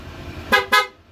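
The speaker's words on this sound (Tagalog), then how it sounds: "Tapos yung busina natin sir." Two short, bright honks from a PIAA horn on a Honda Click scooter in quick succession, loud and close, over a low idling hum.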